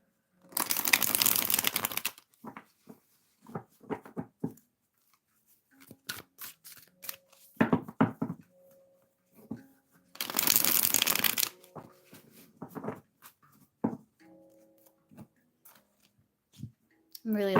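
A deck of new tarot cards is shuffled by hand in two long riffling bursts, with quieter taps and card handling between them, close up and clear.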